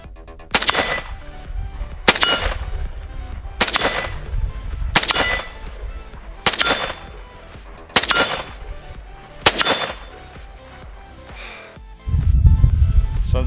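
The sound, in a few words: VZ58 rifle test firing in .223 caliber with Bushnell TRS25 sight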